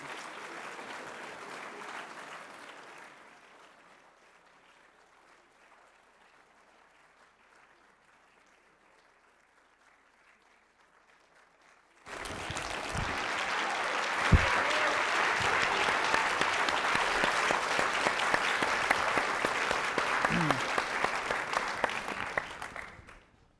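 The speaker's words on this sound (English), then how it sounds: "please set your dials to polite applause and look ahead, and help me to welcome as best you can the world made flesh of one Vladimir Sorokin." An audience breaks into strong, sustained applause to welcome an author on stage at a literary conversation event, following a quieter stretch of softer clapping that dies away.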